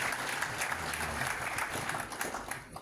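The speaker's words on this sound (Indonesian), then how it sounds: "Tepuk tangan buat Tuhan kita." An audience claps together in sustained, even applause, a dense crackle of many hands heard at a moderate distance for a few seconds.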